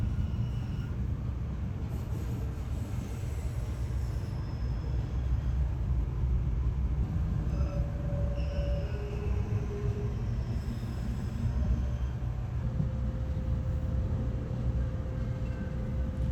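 Steady rumble of a Dallas-Fort Worth commuter train in motion, heard from inside the car, with continuous low track and wheel noise and a few faint high tonal squeals from the wheels, no talking.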